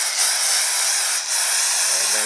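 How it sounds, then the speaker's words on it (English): Spray can hissing sealant steadily into a water-damaged mobile home ceiling, one loud continuous close-up blast with only a brief dip partway through. "Alright, I'm back here spraying it in."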